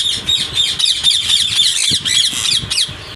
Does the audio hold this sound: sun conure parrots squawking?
yes